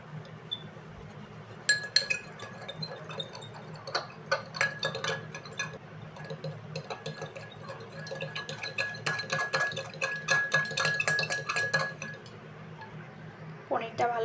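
A spoon scrapes and clinks against a pan while coriander, cumin, turmeric and chili powders are mixed together, giving quick metallic taps in bursts over a low hum, with a voice speaking faintly at times.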